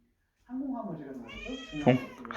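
A domestic cat meows near an air fryer, a single drawn-out meow with wavering pitch followed by a sharper, louder ending, close by and mostly on its own.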